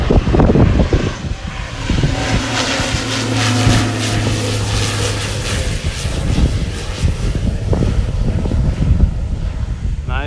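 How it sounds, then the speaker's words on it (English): A jet airliner flies over and comes in to land on a hot day in Tokyo, a loud broadband roar sustained throughout, heavy wind buffeting on the microphone. "Well, airplane coming."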